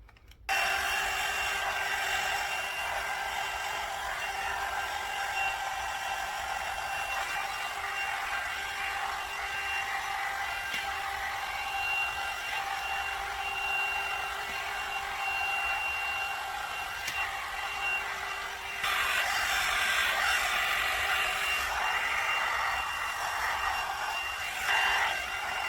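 A blow dryer runs steadily with a loud, constant whir while drying hair roots, its airflow shifting slightly in tone partway through, with faint brushing underneath.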